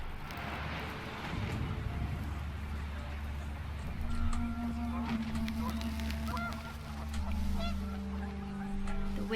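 Panicked geese honk in a noisy flock over gusting wind in What Remains of Edith Finch, the calls overlapping and rising in bursts throughout.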